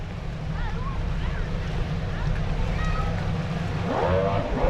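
Pro Mod racing boats on a lake course hold a low rumbling engine drone at the start line, then a louder engine surge rises toward the end as they accelerate, with wind noise over the microphone.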